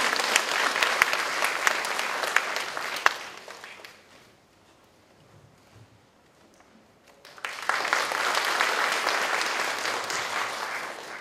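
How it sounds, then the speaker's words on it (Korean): An audience applauds at the opening ceremony of the Jeollabuk-do regional mental health center: loud, dense clapping, a quiet lull of several seconds, then a second strong burst of applause. "큰 박수로 맞이해 주시기 바랍니다."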